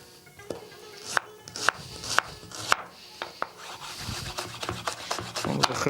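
Onion being finely chopped with a knife on a board, a run of sharp taps at first, then denser rasping and rubbing cuts building in loudness, close and steady.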